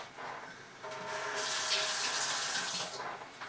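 Water runs steadily from a kitchen tap during Danish pastry baking, a close, even hiss that swells for a couple of seconds and then eases off, with no talking.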